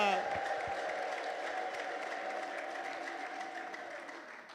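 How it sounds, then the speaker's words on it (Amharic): A church congregation gives a sustained, fairly distant wash of applause with a steady high ululation running through it, fading slightly toward the end. "እልልታ ይሰማ ለጌታ ለኢየሱስ"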